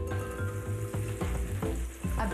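Onion dropped into hot oil in a pan, crackling and sizzling close up with a few stirring scrapes, no voices.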